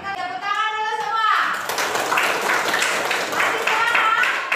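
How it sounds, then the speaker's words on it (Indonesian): A school class applauds together in a classroom during a teaching practice lesson. A voice speaks briefly first, then steady group clapping fills the rest, loud and close. "Kita tepuk tangan dulu semua."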